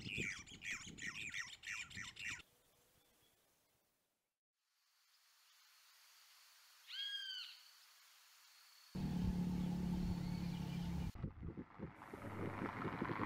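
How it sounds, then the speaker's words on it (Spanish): A brown cacholote calls near a large salt lagoon, giving a few sharp squawking notes amid wind and outdoor background noise, with stretches of near quiet between louder passages. "Otro que se podía ver de vez en cuando era el cacholote castaño."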